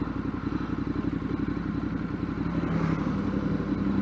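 A motorcycle riding up a mountain pass on the Snake Pass road, its engine a steady close drone with clattering texture that swells slightly partway through.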